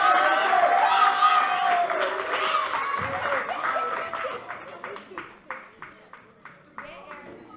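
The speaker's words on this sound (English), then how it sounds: "Clap as Aaron comes back to the mic." An audience at a youth poetry slam in the Bronx claps as a poet returns to the mic, loud mixed applause with some laughter that thins into a few scattered, spaced claps.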